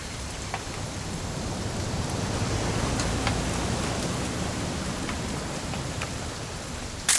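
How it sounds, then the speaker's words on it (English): Rain falls steadily in the video game What Remains of Edith Finch, a dense, even hiss of drops with scattered sharper patters, continuous and moderately loud throughout. "It's gonna rain the whole weekend,"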